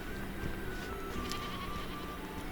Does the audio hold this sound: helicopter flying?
no